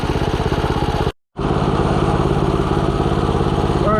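A Tillotson 212R small engine on a minibike idles close by with a steady, rapid chugging pulse, interrupted by a short gap before the rough idle continues.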